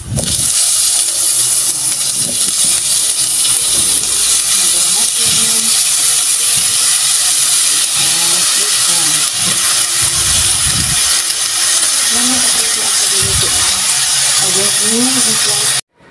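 Eggplant hits hot cooking oil in a home kitchen pan, setting off a loud, steady hiss and sizzle that runs unbroken for the whole stretch, with a voice faintly underneath.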